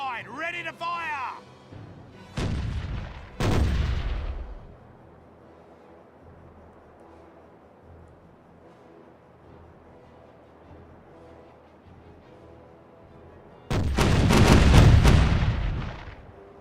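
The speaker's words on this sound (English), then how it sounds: "The right side, ready to fire!" Broadside fire from a ship's cannons in the pirate video game Caribbean Legend: a few heavy booming blasts close together, then a quiet stretch and a bigger, longer roar of shots near the end, with a voice at the start.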